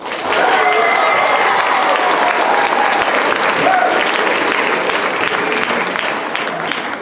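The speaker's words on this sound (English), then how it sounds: "let's give Colin a big round of applause" An audience bursts into loud, sustained applause for a quiz contestant, dense clapping with faint cheering and voices mixed in, holding steady before easing slightly.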